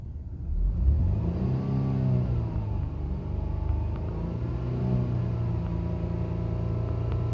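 A 2014 BMW 328i with the N20 engine idles in park with a timing chain whine, giving a steady close rumble with a faint whine over it and a slight rise in revs at the start.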